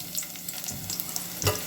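Garlic sizzles in a hot pan as the first step of a Philippine dish cooked in Palau: a soft, quiet crackle with small pops and an occasional stir, and no one speaking.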